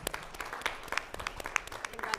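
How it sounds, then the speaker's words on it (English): A school board meeting audience applauds its girls' state competitors after a fantastic season: a moderate patter of scattered hand claps, with a few sharper individual claps standing out, filling the room steadily for a couple of seconds. "Please give our state competitors a round of applause."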